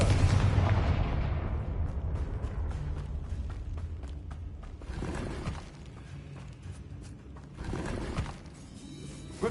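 A Confringo fire spell explodes in Hogwarts Legacy on PS5, a loud booming blast with crackling debris that decays over several seconds, followed by two smaller bursts of impact noise.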